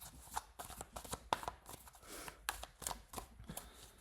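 Tarot cards being shuffled by hand, soft close flicks and riffles in quick irregular bursts over a few seconds, fairly quiet, with no speech over them.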